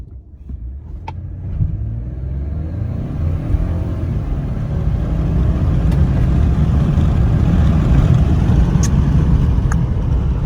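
Ford F-150 EcoBoost pickup accelerating hard, its engine rumble swelling steadily louder and rising over about ten seconds, heard loud from inside the cab.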